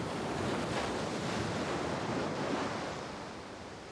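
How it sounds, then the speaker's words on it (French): Strong sea waves surge and break along the Bangladesh coast, a loud, continuous rushing wash of surf with wind noise, steady throughout and easing slightly near the end. "Les vagues sont très fortes."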